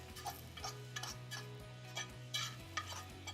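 Onions, garlic and Italian breadcrumbs are stirred together in a bowl, giving soft repeated scraping and clicking strokes at a steady rhythm over a low background hum, fairly quiet and close.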